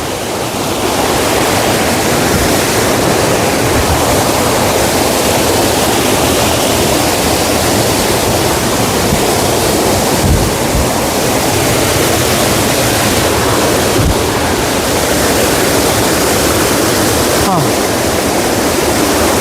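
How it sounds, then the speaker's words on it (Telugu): A forest waterfall roars steadily and loudly, a dense unbroken rush of falling water that fills the whole stretch and drowns out any other sound. "జలపాతం ఇక్కడ నుంచి వాటర్ పడుతూ ఉంటుంది"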